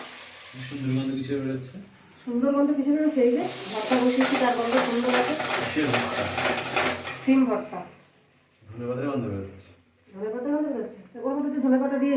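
Potatoes cooking in a pan alongside an egg curry in a home kitchen, with sizzling and clattering pot and utensil sounds under someone talking.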